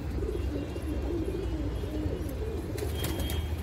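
A pigeon coos softly and repeatedly nearby, with a low continuous murmur behind it and a few brief chirps near the end.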